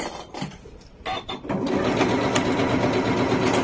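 A Janome sewing machine stitches fabric, with a few short starts and stops at first and then a steady, close, continuous mechanical whir of running stitches.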